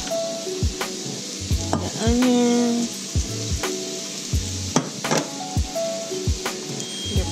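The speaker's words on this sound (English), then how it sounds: "And you want to saute about 1 cup of your carrots" Carrots sautéing in a hot pan for loaded pot pies give a steady sizzle, with sharp spatula scrapes and clanks at a regular stirring rhythm, close and fairly loud.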